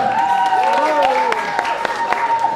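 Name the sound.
audience applause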